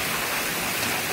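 Sulfurous water flowing in the Lupeni mine, a constant loud rushing hiss like a stream or spill, steady and close throughout.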